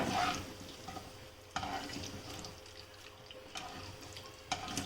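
Garlic and curry leaves sizzle steadily in hot oil in a pan, with a few sharp stirring clatters breaking through at intervals; no one speaks.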